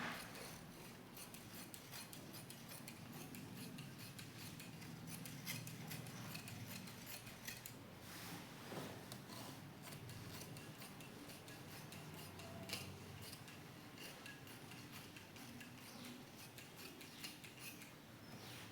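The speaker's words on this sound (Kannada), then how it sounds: "ಇದನ್ನು ಕಟ್ಟಿಂಗ್ ಮಾಡ್ಕೊಳ್ಳೋಣ ಇವಾಗ." Scissors snip through blouse fabric while a hand-work blouse is cut out by hand, a steady run of soft close clicks and rubbing cuts repeating throughout with no talk over it.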